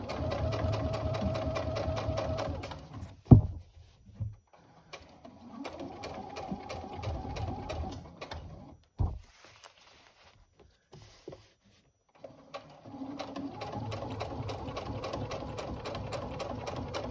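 Sewing machine basting a seam on a tote bag, running in several rapid stitching bursts separated by pauses, with a couple of sharp clicks between runs, close and clear.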